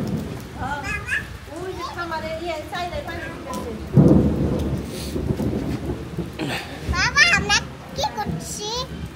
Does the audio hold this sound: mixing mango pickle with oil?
no